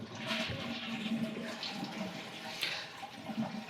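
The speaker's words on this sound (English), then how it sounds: "I'm going to start off by turning off the water supply, making sure that it shuts off well, and then draining the tank." Water rushes and gurgles steadily as a toilet tank drains during a bidet seat installation, a continuous close, moderately loud flow with slight swells and no talking.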